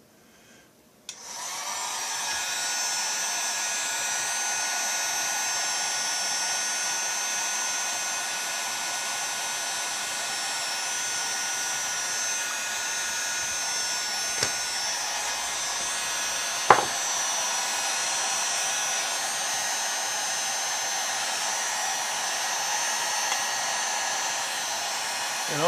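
A heat gun warms a chainsaw crankcase held about six inches away, giving a steady close fan-and-air roar that runs unbroken, with a couple of faint clicks partway through.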